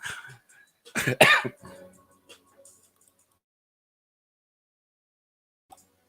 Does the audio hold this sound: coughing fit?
yes